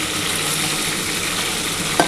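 Pieces of snakehead fish fry in hot oil, a loud steady close sizzle with a small clink of stirring near the end.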